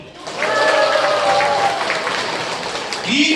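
An audience at a comedic Korean academy event bursts into loud, sustained applause, voting for the father in a contest, with a voice calling over the clapping throughout.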